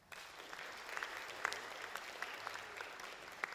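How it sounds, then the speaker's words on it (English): An audience claps to welcome a guest presenter at a school symposium on positive education, a steady wash of applause sustained for a few seconds with a few louder individual claps standing out. "Very nice to get the clap out of the way, because I might be rubbish."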